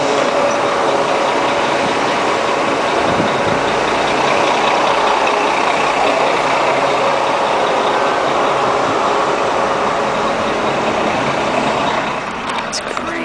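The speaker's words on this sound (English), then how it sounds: "Look at all this traffic." Heavy road traffic heard from inside a car, a steady broadband rumble of car and truck engines idling and crawling in stop-and-go congestion, continuous and fairly loud, fading slightly near the end.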